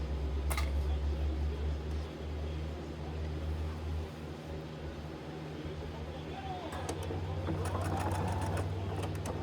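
A sewing machine runs steadily, stitching a seam all the way across fabric as a continuous mechanical hum, with a few brief clicks near the end and no talk over it.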